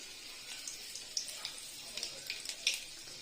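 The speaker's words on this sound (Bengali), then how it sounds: "এদিকে কড়াইয়ের তেলটাও গরম হয়ে গেছে, শাকটা ছেড়ে দিই তেলে।" Leafy greens dropped into hot oil in a wok give a soft, steady sizzle with small crackling pops, fairly quiet and with no talking.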